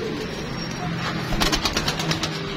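Pigeons kept for sale, including a blue pigeon, coo softly in a series of short throaty pulses near the end, over steady background hum and rustle.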